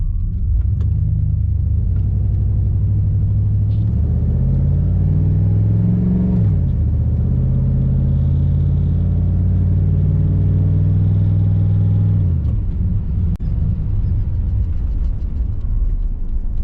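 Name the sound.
1991 Chevy Silverado OBS truck engine running while driving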